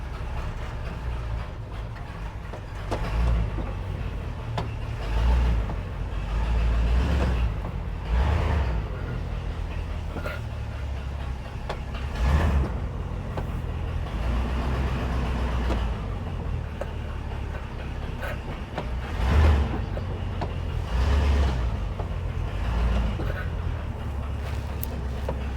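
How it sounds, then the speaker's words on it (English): An International pickup truck rumbles along the road on a test drive, a steady low engine and road drone from inside the cab with periodic swells and thumps over bumps. "we're gonna put this thing out on the road, just give it a little bit of a test drive here"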